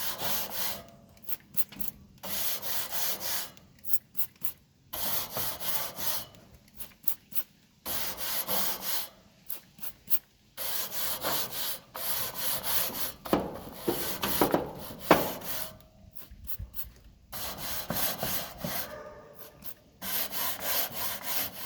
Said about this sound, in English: I simply squirt some oil on there and use it as a brush to apply oil.